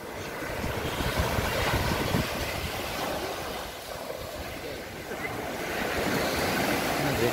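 Sea waves wash onto the beach at Golubitskaya, a continuous rushing surf with gentle swells, close by and steady, with wind noise over the microphone.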